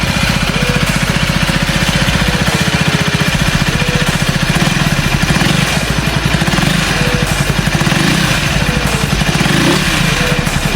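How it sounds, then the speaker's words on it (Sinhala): A stock-exhaust KTM Duke 125 (2026) motorcycle runs steadily at close range, its single-cylinder engine giving a loud, continuous throbbing putter that stays constant with no voices present. "ඕගොල්ලන්ට stock exhaust sound එක මෙන්න මේ විදිහට"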